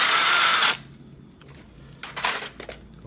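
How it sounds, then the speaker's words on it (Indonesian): Wrenches, 19 and 10, loosen a clutch hose nut and clutch spring bolt, with metallic clinks, scrapes and ratcheting clicks after a loud hiss at the start, close and irregular. "Kita buka dulu ya mur hose koplingnya, kemudian baru baut per koplingnya supaya udah nggak perlu ditahan-tahan. Gunakan kunci 19 dan kunci 10 nih."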